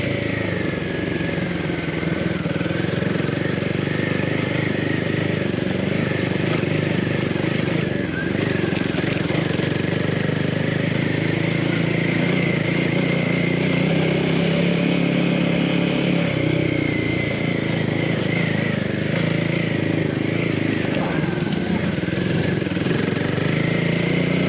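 A Ducati DesertX Rally motorcycle engine runs steadily and loudly throughout, a constant mid-pitched drone at a low trail pace with no clear revving.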